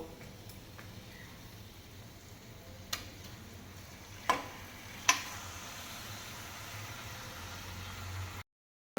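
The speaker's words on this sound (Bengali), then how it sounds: "এবার এই ম্যারিনেট করে রাখা মাংসটা আমি আস্তে আস্তে দিয়ে দেব" Marinated mutton frying in a pan of fried onions: a soft, steady sizzle running throughout, close and fairly quiet, broken by a few sharp clinks and scrapes of a utensil, with no talk.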